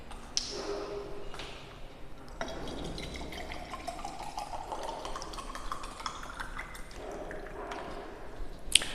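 Water trickling and being poured or sipped during a classroom lecture, a faint continuous liquid sound with small drips and no talking.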